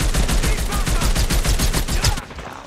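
Call of Duty Mobile gunfire rattles off as a loud, rapid burst of automatic shots, one sustained volley of evenly spaced cracks that stops abruptly near the end.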